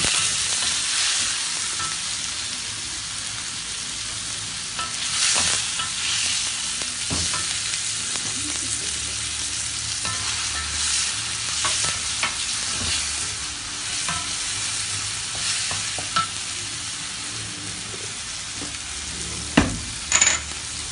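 Onions, green chillies and tomatoes sauté for a Tamil-style salmon fish curry, with continuous sizzling in a pan and repeated sharp scrapes and stirs of a spoon. Nobody speaks.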